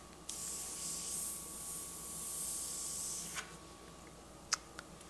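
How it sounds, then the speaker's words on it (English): Airbrush spraying paint on a leather saddlebag, a steady airy hiss lasting about three seconds that cuts off abruptly, followed by a couple of sharp clicks over a faint hum. "Color is really not spraying as nicely as I would like for it to."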